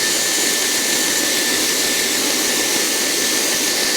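A Dyson Airwrap hair styler blows air in a steady, loud, unbroken rushing whoosh that holds an even level throughout with no voices.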